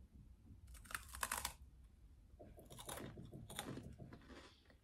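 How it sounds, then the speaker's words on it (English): Teeth biting into a light, wafery snack, giving two close bursts of crisp crunching and crackling with short pauses between, fairly quiet. "it is almost like a wafery type effect. So let me bite into this."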